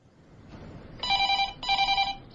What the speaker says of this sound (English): You've reached the answer phone of Agatha Raisin.